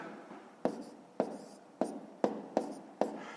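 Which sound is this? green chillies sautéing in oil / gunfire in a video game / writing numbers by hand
writing numbers by hand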